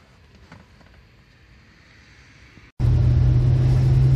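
A 1961 Rover 100 P4 car starting to drive: after a quiet stretch of faint interior noise, a loud, deep engine and road rumble abruptly rises and stays steady.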